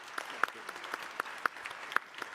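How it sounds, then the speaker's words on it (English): A woman clapping at a global forum, a rhythmic series of distinct hand claps at a steady even pace, fairly close, over a faint background of softer clapping from others. "Look at my mother clapping."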